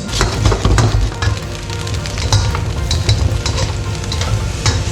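Prawns cooking in a hot frying pan give a loud, steady sizzle with crackling spatters and brief stirring clinks throughout, with no voices.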